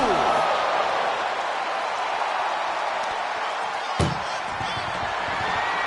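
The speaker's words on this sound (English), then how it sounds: "First door shut." A single heavy ambulance door slams shut partway through a wrestling ambulance match, a sharp thud against steady loud arena noise and crowd commotion.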